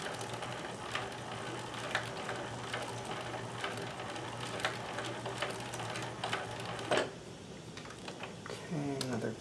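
A Singer 72W19 hemstitching sewing machine stitches fabric with a steady mechanical clatter of rapid ticking and a low motor hum, close and constant, and a brief voice comes in at the very end.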